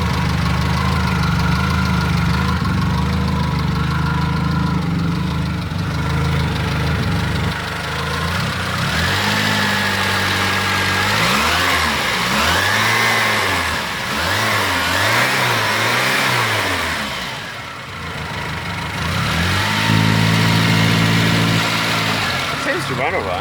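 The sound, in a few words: Mitsubishi Galant Sigma car engine running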